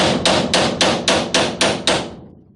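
A hammer taps a welded part off a Volkswagen Kombi under repair, with seven evenly spaced metallic strikes, close and loud, each ringing briefly before the next, fading at the end.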